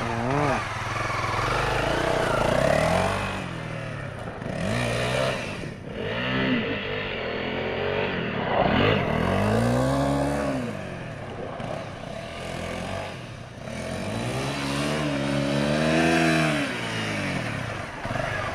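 A Honda motorcycle revs repeatedly as the throttle is opened, engine pitch swooping up and falling back in several rising surges, loud and close with a rough drone between bursts.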